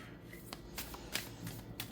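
Tarot affirmation cards being shuffled and drawn by hand, soft papery riffles and a few crisp flicks, quiet and close with no voice.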